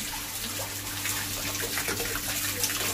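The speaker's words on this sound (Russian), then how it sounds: "горячая вода очень пошла" Hot water runs steadily from a tap in a continuous splashing stream, with a faint hum underneath and no voices.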